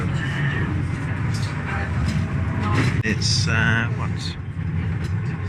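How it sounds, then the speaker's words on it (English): Inside a bus on the route to Milan Bergamo airport, a steady low engine rumble and road noise run throughout, with brief mechanical squeaks and a spoken word over the drone. "So we're on the bus from the top, going to the airport, all one way."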